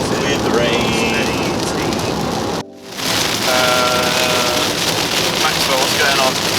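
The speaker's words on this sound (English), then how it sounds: "Raining again." Heavy rain pours down steadily in Ireland, a loud continuous hiss that cuts out for a moment and then returns, with no speech.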